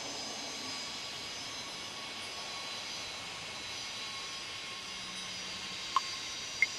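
Airliner taxiing to the ramp in the video game Tower Simulator 3 at Tucson airport, a faint, even distant jet engine hum under steady broadband noise, with two tiny clicks near the end and no talk.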